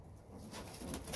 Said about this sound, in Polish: Patrzcie jakie piękne zadbane gołębie, jak się błyszczą, czyściutkie